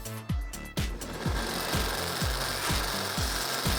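A power drill with a 17/32 bit bores through a frame, producing a loud grinding drone broken by regular chattering pulses, about two per second, as the bit bites into the material.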